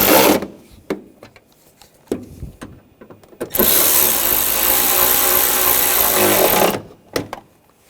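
Bolts being tightened on the coolant reservoir bracket of a 2004–2008 Ford F-150, heard as a few sharp clicks and taps followed by a loud, steady burst of power-tool whirring lasting about three seconds, then more scattered knocks.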